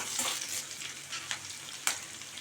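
Cumin, shallot and crushed garlic fry in oil with a soft, continuous crackle, punctuated by a couple of faint clicks and scrapes from a stirring spoon.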